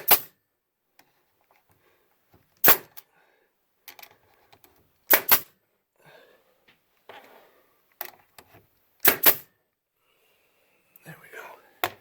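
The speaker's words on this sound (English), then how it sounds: "I'll just put a couple more brads." Brad nailer driving brads into a wooden shed shelf, several sharp isolated snaps spaced a couple of seconds apart, close and loud against a quiet room, with low talk in between.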